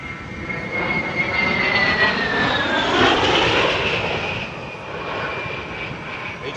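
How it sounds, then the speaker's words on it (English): An A-10 Warthog jet at an airshow roars past in a dive, air rushing over its wings with a descending whine, loud and sustained, with no talking. "Listen closely to the sound of the wind rushing over the wings as he stalls at the bottom of his dive."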